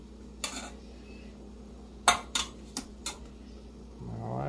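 Steak flipped in a hot pan on the stove: a few sharp metallic clinks and scrapes of a utensil against the pan, spaced apart over several seconds, followed by a rising sizzle as the meat lands, otherwise fairly quiet.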